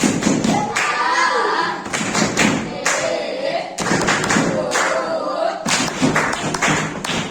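A school classroom performs the rhythmic concentration clap routine, with students chanting together over a steady series of sharp claps and thumps that fill the room.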